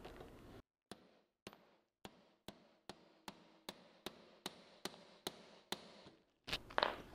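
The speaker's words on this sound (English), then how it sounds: "I'm going to take my hammer." Hammer tapping a nut onto the axle of a red Berlin Flyer wagon, about a dozen crisp evenly spaced metallic taps, close and clear, followed by a brief rustle.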